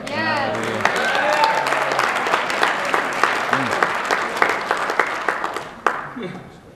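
A church congregation applauds through a Sunday sermon on the blood of Jesus, a dense wash of clapping with voices talking and calling out over it, fading near the end.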